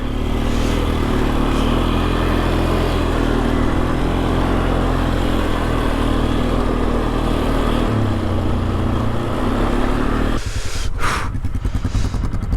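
A Polaris Sportsman 500 ATV drifts in snow, its engine droning loud and steady up close with shifting revs, then breaking into rough clattering bursts near the end.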